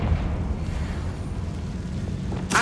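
A Confringo blasting spell going off in Hogwarts Legacy, a deep rumbling boom that rolls on low and steady for a couple of seconds before a sharp bright burst at the very end.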